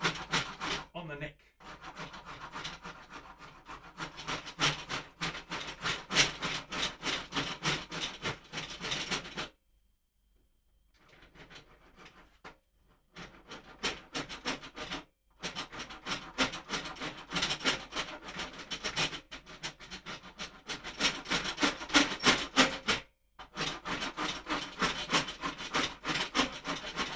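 A rasp carves a wooden guitar neck in long, rhythmic rubbing strokes, close and loud, broken by a few short pauses before the scraping resumes.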